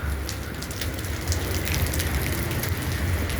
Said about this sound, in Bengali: এখনো বৃষ্টি হইতেছে অনেক জোরে।